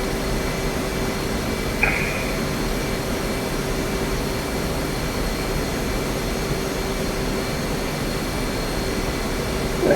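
Steady, even roar of an F/A-18C Hornet jet engine at reduced power in the DCS flight simulator during a landing approach, a constant drone with a faint high whine and one brief click.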